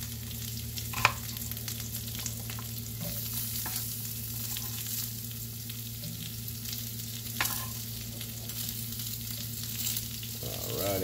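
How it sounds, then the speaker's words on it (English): Potatoes fry in a pan with a steady, close sizzle that stays even throughout, with a few faint utensil clicks and scrapes and no talking. "So I'll put my potatoes in first, because usually I like my potatoes to get a little bit more cooked and crispy"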